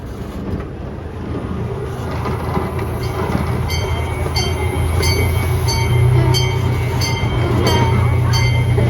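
Virginia Zoo miniature train rolling out of its covered train barn, a continuous close rumble with rhythmic clicking wheels and a rising low engine drone, faint squeals over the top.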